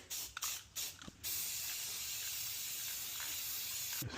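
A spray can lays a light coat of paint onto particle-board furniture, a steady close hiss running continuously after a few short bursts, with no talking.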